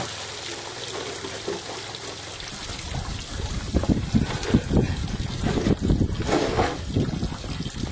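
Antifreeze and flush water pour from a pulled bottom radiator hose on a tow truck, a splashing, trickling gush that starts a couple of seconds in and keeps running steadily, close by, with light wind noise and no talk.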